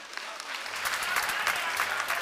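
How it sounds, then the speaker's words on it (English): A crowd at a beauty pageant judging session breaks into applause. The clapping is dense and brisk, builds quickly and stays steady and fairly close for about two seconds. "Please clap for them."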